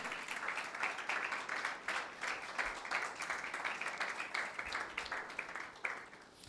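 A church congregation claps and applauds loudly during a Sunday service, a dense sustained wash of hand claps at steady volume throughout with no talk over it.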